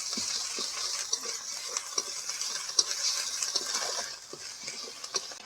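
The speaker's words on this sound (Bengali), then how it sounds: "এক চামচ আদা রসুন বাটা এবার এগুলোকে ভেজে নেব" Browned onions with a spoonful of ginger-garlic paste frying in a pan, a close, bright sizzle with regular taps and scrapes of a spoon as they are stirred, easing slightly toward the end.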